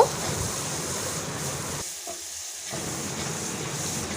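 Chicken masala sizzles as it is sautéed for kasha in a wok. The frying hiss runs steadily close up, dips briefly near the middle, then returns, with no talking.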